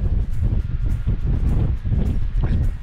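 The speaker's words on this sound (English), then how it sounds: "It is really, really windy." Strong gale-force wind buffets the microphone outdoors in wet weather, roaring in continuous gusty surges with heavy low rumble and no pause.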